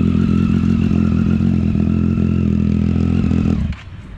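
A big superbike engine idles and rumbles loudly nearby, then cuts off abruptly at the end.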